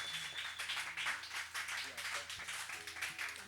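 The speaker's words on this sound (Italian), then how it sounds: "Lo rifacciamo l'applauso, mi piace molto questa parte" An audience claps together at a live music session, a dense, steady patter of applause held for a few seconds with no pause.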